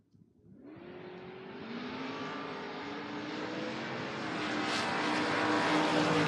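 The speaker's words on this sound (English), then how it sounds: "Harley Parson back up in the Malibu, 676, taking on Gary Sempers in the Mustang." Drag racing cars, a Malibu and a Mustang, launch and accelerate hard down the strip, a loud roaring engine note rising steadily in pitch and intensity over several seconds.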